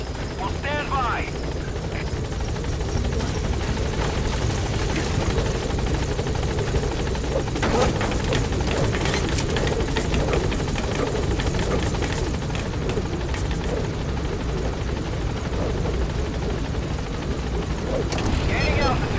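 A helicopter in Metal Gear Solid V roars continuously and loudly close by as it lands and lifts off again, rotor thrum filling the whole stretch while radio voices speak over it.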